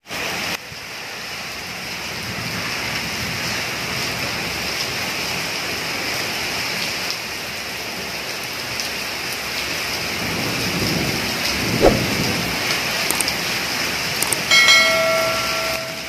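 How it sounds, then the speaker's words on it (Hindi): Heavy monsoon rain pours in a steady, dense hiss, with thunder rumbling low beneath it and a few scattered drips and clatters near the end. "बहुत जोर से वर्षा होल्प जोर से वर्षा हो, चलो देखिए कैसे जोर वर्षा हो."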